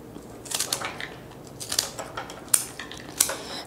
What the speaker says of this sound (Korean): 꽉 잡아서 한 뼘을 두시고 일자로 잘라주세요.